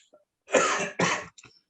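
Two harsh coughs in quick succession, close and fairly loud, followed by a softer short throat sound.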